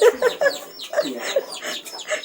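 Chickens cluck and squawk in a village yard in short repeated bursts, close and fairly loud, with a faint voice in the background.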